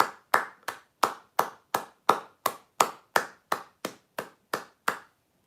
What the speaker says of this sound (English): Another round of applause for my moderators